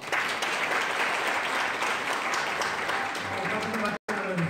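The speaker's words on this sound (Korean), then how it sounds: "박수" Audience applause at a Korean centennial forum on President Park Chung-hee in Gumi, a dense sustained wash of clapping from a seated crowd that carries steadily throughout, with a brief dropout near the end and faint voices beneath.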